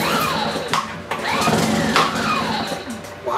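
A Baja 900 generator engine being pull-started, with several quick rising recoil cranks and sputters close by that catch into a running engine.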